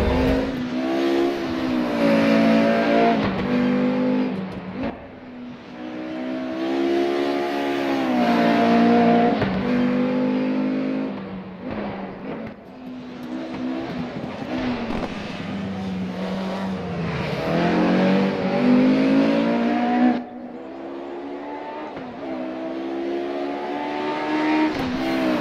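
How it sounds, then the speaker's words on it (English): A DTM Mercedes race car laps the Nordschleife in the RaceRoom racing game, its loud engine revving continuously and rising and falling in pitch through gear changes, with faint tire squeal and no talking. "And this is a race car."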